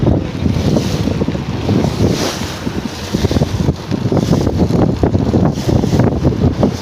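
Strong wind buffets a fishing boat out at sea, a steady roaring gust with rumbling microphone wind noise and the wash of waves against the hull, loud and continuous with no talking.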